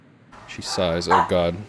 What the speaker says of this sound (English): You might hear them in the background, but Rocky was starting to bark